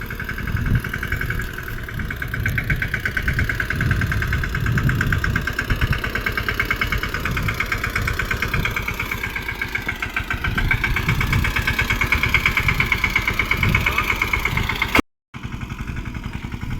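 A tractor engine runs on a muddy farm field at sowing time, a steady close chugging drone with rhythmic knocking that holds for a long stretch before briefly cutting out.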